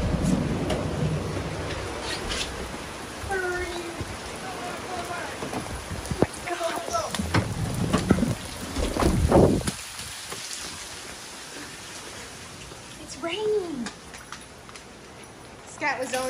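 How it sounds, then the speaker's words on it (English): Sudden heavy rain drums on surfaces around a camper van, with low rumbles of thunder rolling through. People talk in short bursts over the steady downpour. "I cannot believe how quickly it started raining like that."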